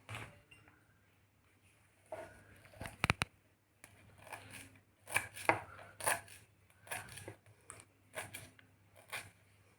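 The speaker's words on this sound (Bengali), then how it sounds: "দুটো লঙ্কা কুচি করে নিচ্ছি" Green chillies chopped with a knife on a board, a run of quick close taps and cuts in uneven bursts, fairly quiet with a faint background hum.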